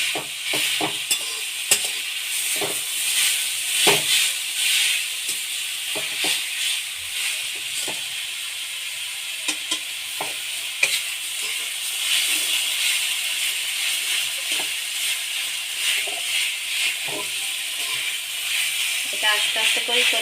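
A coconut and jaggery filling stirred slowly in a wok, giving a steady soft sizzling hiss broken by irregular scraping strokes of the spoon against the pan throughout, close by and moderately loud.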